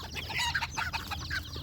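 Farmyard chickens clucking in a steady run of short, bright calls, close and fairly loud, with several birds overlapping and a low rumble beneath; no one speaks.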